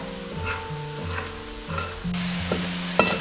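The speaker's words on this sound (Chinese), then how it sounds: "接着开最小火炸红葱头" Sliced shallots deep-frying in pork lard over the lowest heat, a steady soft sizzle with occasional stirring clinks from a utensil against the pan, close up and without talk, over faint background music.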